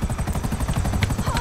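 Steady rapid rotor chop of a helicopter in GTA 5 Online, loud and continuous, with a faint whistling tone near the end.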